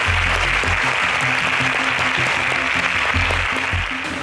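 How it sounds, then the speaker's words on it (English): A studio audience at an agricultural science quiz show breaks into sustained applause, a loud, even wash of many clapping hands for several seconds over a low musical hum, fading slightly at the end. "A round of applause for Angela."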